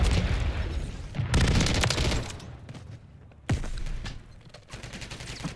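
Video game gunfire, including pistol shots, in a DG58 JAK Nightshade match: bursts of sharp shots and rapid fusillades, loud and close, with brief pauses between volleys.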